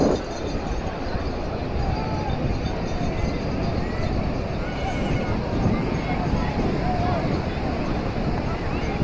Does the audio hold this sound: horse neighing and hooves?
yes